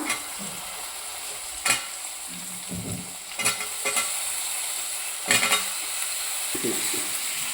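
Potatoes fry in a kadai for aloo palak, with a constant sizzling hiss broken by several sharp scrapes and clatters as the pieces are stirred and turned.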